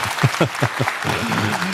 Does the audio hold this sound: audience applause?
yes